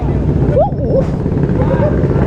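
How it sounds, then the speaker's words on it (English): Track motorcycles riding past at a race track day, engines droning steadily with rising and falling whines as bikes go by, a continuous loud roar throughout. "Listen to those track bikes, boys."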